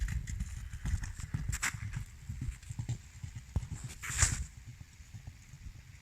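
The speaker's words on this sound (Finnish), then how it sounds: "Volana on American Painthorse, eli tämmöisiä varsinaisia karjahevosrotuja" Hooves of an American Paint Horse, a stock-type ranch breed, clip-clopping at a slow walk, with irregular muffled thuds under a low outdoor rumble and a faint sharper knock near the end.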